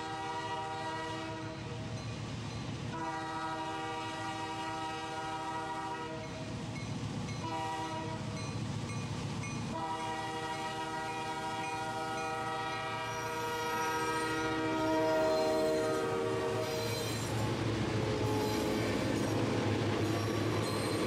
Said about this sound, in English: Abundant whistleblowing is necessary, as all three of the railroad's ex-Canadian Pacific General Motors GP9s growl